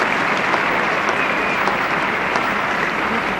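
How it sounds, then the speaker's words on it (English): Cricket crowd at Lord's applauding a fifty partnership in a 1974 Pakistan vs England Test, a dense, even wash of clapping that holds steady and fairly loud throughout. "Applause for this partnership now,"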